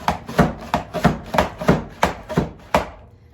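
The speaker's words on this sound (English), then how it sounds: "going to run it through the mandolin as well so that I can make it nice and chunky" Vegetables being sliced on a Pampered Chef mandoline, about nine sharp, evenly spaced rasping strokes close up, each a quick scrape-and-clack, alone with no talk.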